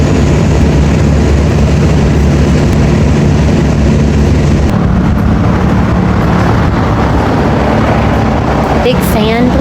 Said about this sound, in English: Big fan blowing on her